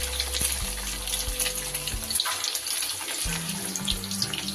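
Chicken kofta balls coated in bread crumbs deep frying in hot oil, a steady dense hiss and bubbling sizzle that runs throughout without pause.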